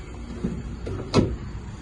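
A single muffled clunk of a 2019 Renault Kangoo's rear cargo door being opened, with a faint click just before, close by with no talking.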